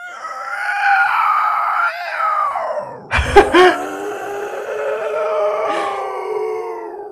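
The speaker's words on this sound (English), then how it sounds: "take White's raw screams and add effects to make them more powerful" Long, distorted demonic screams, heavily processed with layered effects, rise and bend in pitch, broken by a brief harsh burst midway.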